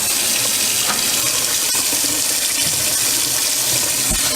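Cold tap water pours steadily into a bowl, a constant loud splashing rush with no break.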